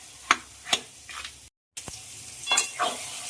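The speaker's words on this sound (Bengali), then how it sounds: "এবার দিয়ে দেবো ভেজে রাখা মাথাগুলো, দিয়ে খুব ভালো করে নেড়ে দেবো।" Fried hilsa fish heads are stirred into cooking taro greens, with sharp scraping strokes of a spatula against the pan over a soft frying sizzle, close and unaccompanied, broken by a brief silent gap.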